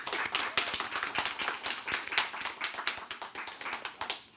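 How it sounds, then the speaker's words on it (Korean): A church congregation claps together in steady, fairly even applause, moderately quiet and sustained for several seconds before tapering slightly. "우리 다 같이 한번 감사의 박수 올려드렸으면 좋겠습니다"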